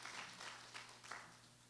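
Church congregation clapping in praise, a soft scattered patter of hands rising in a few bursts, fairly faint and distant.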